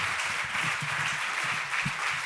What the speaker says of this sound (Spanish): Pois veña, un aplauso para Catuxa Salom.